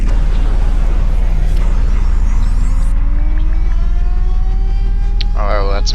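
Car engine in the Car Mechanic Simulator 2018 video game running a test path, a steady loud drone with rising tonal whine as it accelerates and a brief mechanical clatter near the end.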